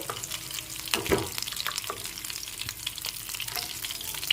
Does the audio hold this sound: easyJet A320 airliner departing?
no